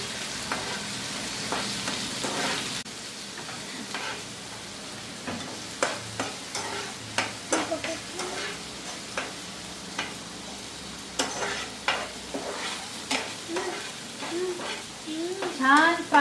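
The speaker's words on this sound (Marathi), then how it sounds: "थोडासा कांदा गोल्डन कलर होत आलाय त्यात आता टोमॅटो टाकतो हे सर्व छान फ्राय करून घेते" Onions and tomatoes sizzle steadily in a pan for masala idli, with stirring and clicking strokes breaking through the frying hiss now and then.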